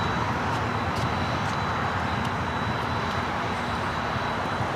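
An airliner on its takeoff roll from runway 25 left at LAX, a constant loud roar of jet engines that stays steady and unbroken, with no voices.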